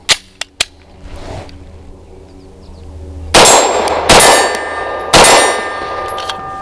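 A CZ 75 BD pistol, loaded with a Mec-Gar magazine fitted with an aluminum +2 base plate, fires three loud, close shots with ringing metallic clangs from a target, after a few sharp clicks.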